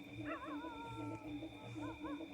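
Faint, distant dog yelping and whining in short wavering bursts over a steady electrical hum.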